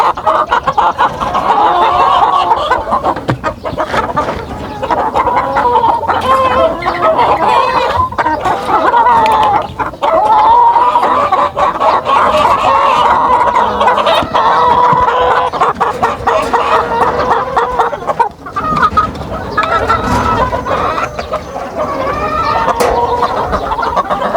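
Asil chickens with their chicks cluck and chirp almost without a break, loud and close, a dense busy chorus of hens and peeping young birds, with a voice faintly underneath at times.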